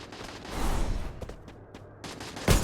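Video game gunfire from body shots, a dense, loud burst of rapid shots at the start, then scattered cracks and a renewed heavy volley at the end.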